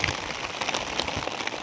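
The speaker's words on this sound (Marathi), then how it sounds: "पाऊस यायला लागलाय बघा." Rain begins falling over a tomato field, heard from under a plastic sheet shelter as a brief, dense patter of drops with scattered louder taps, close and steady.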